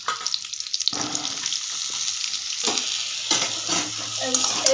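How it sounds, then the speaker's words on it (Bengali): Pointed gourd (potol) frying in oil, sounding as a close crackling sizzle broken by scraping stirs and a few utensil knocks against the pan. "একটু তেল দিয়ে পটলগুলো ভেজে নেবো"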